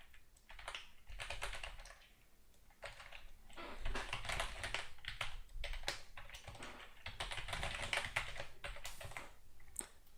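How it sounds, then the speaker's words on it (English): Rapid clicking on a computer keyboard while entering SQL Server credentials, bursts of close, quiet keystrokes separated by short pauses. "let's type here SQL Server credentials and just write the username and password"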